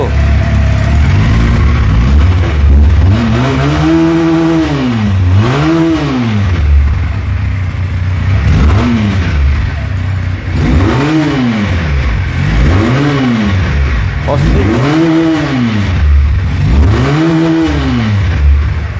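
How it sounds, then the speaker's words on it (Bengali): A new fat-tyre motorcycle engine revs repeatedly, rising and falling in a steady series of loud, close throttle blips with a rumbling idle in between. No voices are heard. "তো এই বাইকের সাউন্ড শুনি"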